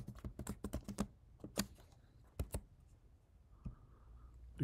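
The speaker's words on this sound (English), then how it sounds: "Put in my password" A password is typed on a MacBook Pro keyboard: a quick burst of close, crisp key taps, then a pause and a few more scattered presses in a quiet room, without talk.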